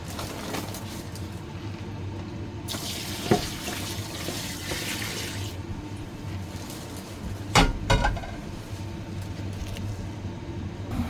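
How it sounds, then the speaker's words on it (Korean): Boiled soy sauce poured over garlic scapes packed in a jar: a continuous liquid trickle and splash runs throughout, swelling in the middle, with a couple of sharp clinks of glass or a lid near the end, no talk. "이렇게 담아서 끓인 간장을 붓도록 하겠습니다"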